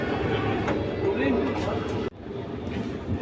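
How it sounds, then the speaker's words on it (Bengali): Aboard the new Vande Bharat sleeper express on its Howrah–Kamakhya inaugural run as it pulls out of New Jalpaiguri (NJP) station: a steady low rumble and rattle of the moving carriage, with voices talking over it and a brief dip midway. "আমাদের train just now NJP station থেকে ডিপার্চার নিল"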